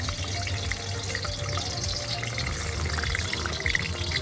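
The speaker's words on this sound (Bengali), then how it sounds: "আলু পড়ছে, আলু ভাজা হচ্ছে এখন।" Potatoes fry in mustard oil in a pot during outdoor picnic cooking for a mutton dish, giving a dense, steady, loud sizzle with no pauses.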